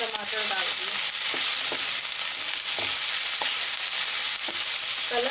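Two tomatoes fry in a pan for a Peshawari omelette, giving a loud, steady sizzle close up with a few light stirring clicks and no speech.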